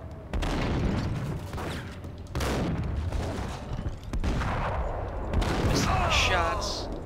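Gunfire in the Max Payne video game: several loud bursts of shots and booming reports arrive in clusters, crowded together with dense game action noise.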